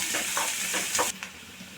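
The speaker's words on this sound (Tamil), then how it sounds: "வெங்காயம் சேர்த்து கொஞ்சம் நல்லா கிண்டி விட்டுக்கோங்க வதங்கட்டும்" Onions sautéing in a pan for a capsicum stir-fry, a steady close sizzle with several soft scraping stirs of a spoon, no voices.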